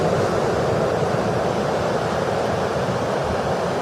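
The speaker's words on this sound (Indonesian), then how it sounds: "sambil menikmati deburan ombak di pantai batu teman" Steady broadband surf rolls on without a break on Batu Teman, a rocky beach at Teluk Ijo (Green Bay) in Banyuwangi, mixed with wind, close and fairly loud, with no talk.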